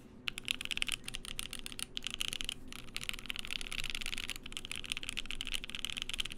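Keys clatter on a Voice65 mechanical keyboard in a continuous run of typing, clicks and clacks close up and fairly quiet, with no talking.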